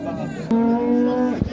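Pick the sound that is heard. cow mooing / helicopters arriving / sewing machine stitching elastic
cow mooing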